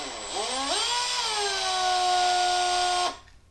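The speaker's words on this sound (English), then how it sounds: "when you're drilling into metal, do not drill fast." A power drill bores slowly into metal, its whine rising as it spins up, then holding a steady high pitch for a few seconds before cutting off abruptly.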